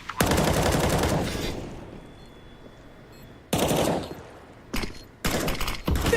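Rifle fire in a Counter-Strike pro match between compLexity and Vitality on Vertigo: loud rapid bursts open the clip, then after a quieter stretch more sharp volleys and another sustained burst follow.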